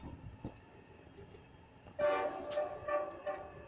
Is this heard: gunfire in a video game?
no